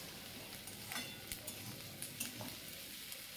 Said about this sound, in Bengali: কড়া আঁচেই কিন্তু পেঁয়াজটা ভালো করে ভাজতে হবে।